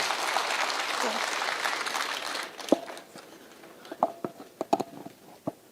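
Audience applause at a live public security forum in Kisii Town, Kenya, a dense round of clapping for about two and a half seconds that then thins into scattered individual claps and a few sharp hand slaps as it dies away.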